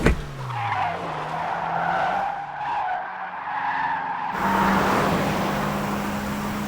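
Toyota 86 drifting through a corner, tires skidding in a long, loud continuous squeal with a sustained engine drone underneath that shifts to a higher, steady tone near the end.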